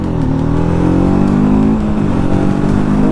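A TVS Apache RTR 310 motorcycle engine roars loudly and steadily on a road ride, its pitch rising and dipping slightly as it revs, with no talk over it.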